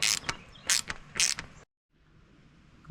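Mechanical work removing the alternator from a Mercedes E180: three loud bursts of creaking, ratcheting clicks up close, then a sudden cut to near silence and faint background hum.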